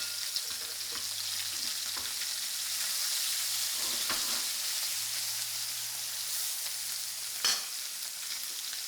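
Food fries in a pan during a cooking lesson, a soft continuous sizzle and crackle with a few small clinks of utensils, fairly quiet and steady, without any speech over it.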